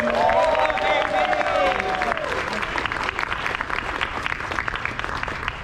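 Fan convention crowd at Everfree Northwest 2023 claps and cheers loudly for the AV team, dense applause with whoops and shouted voices rising early, then steady clapping that carries on and slowly thins.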